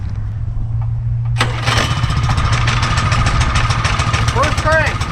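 A Simpson 3000 psi gasoline power washer engine cranks and catches on full choke, then settles into a loud, steady running drone that stays close for several seconds.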